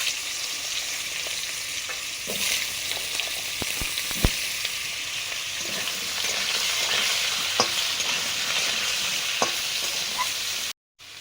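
Black cumin seeds sizzle and crackle in hot oil alongside pieces of spiny gourd, potato and eggplant, a steady broadband frying hiss with occasional sharper pops and stirring scrapes, close and continuous before cutting off abruptly near the end.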